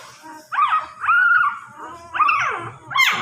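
Four tiny puppies, one chocolate brown, whine and yelp close by in three or four high, wavering cries separated by short pauses, with no talking.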